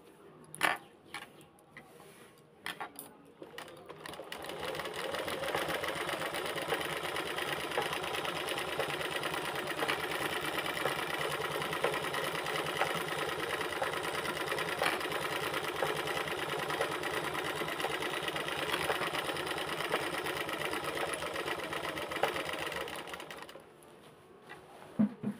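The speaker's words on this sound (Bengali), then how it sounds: "এটা মেশিনে সেলাই হচ্ছে" A sewing machine runs steadily for about twenty seconds while stitching a fall border onto a sari, giving a close, even mechanical whir, with a few clicks and handling noises before it starts and after it stops.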